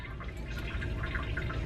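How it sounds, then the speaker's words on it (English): A thick blended smoothie pours into a bowl, a soft, continuous liquid glug and splatter heard close up with no talk. "I'm just gonna pour it into this bowl here."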